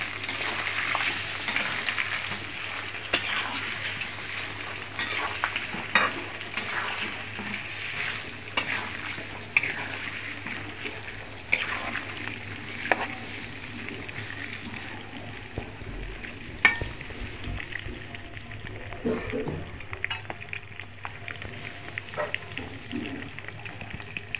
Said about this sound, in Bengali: এটাকে আমি এখন সুন্দর করে ভেজে নিব।